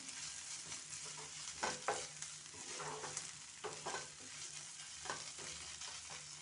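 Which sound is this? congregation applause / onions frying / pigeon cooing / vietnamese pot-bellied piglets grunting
onions frying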